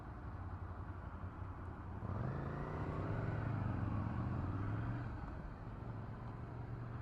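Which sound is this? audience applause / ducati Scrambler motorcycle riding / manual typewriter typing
ducati Scrambler motorcycle riding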